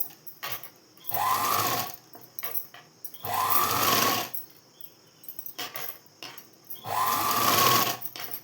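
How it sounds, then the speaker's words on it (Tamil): A sewing machine runs over an existing seam on blouse fabric in three steady whirring bursts, with small clicks and handling sounds in the pauses between them. "இப்படி அந்த தையல் மேலேயே மறுபடியும் தையல் ஓட்டிட்டு வரோம்"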